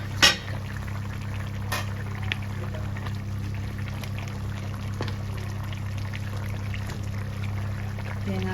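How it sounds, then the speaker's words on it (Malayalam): Coconut milk is poured into a country-style crab curry simmering in a clay pot, giving a steady, close liquid bubbling and hiss after a brief clatter at the start, with no talking. "തേങ്ങാപ്പാൽ ചേർത്ത് കൊടുക്കുകയാണേ."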